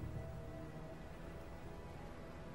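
Steady rain falling outside a roadside inn, a soft, even patter that stays constant and quiet throughout with no voices.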